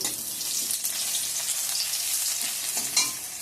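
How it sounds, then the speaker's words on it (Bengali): Dried chilli, bay leaf, onion and panch phoron are tempered in hot oil, producing a loud, steady hissing sizzle throughout with light stirring and no voices. "এখানে আমি ফোড়ন দিয়ে দিচ্ছি শুকনো লঙ্কা তেজপাতা পেঁয়াজ আর হচ্ছে পাঁচফোড়ন"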